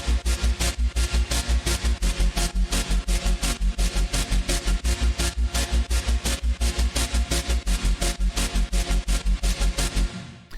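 An electronic music loop where a deep sub bass is auto-panned and sidechained to the kick, so the low end pumps in a fast, steady rhythm under a busy, dense mix, loud and continuous before cutting off at the end.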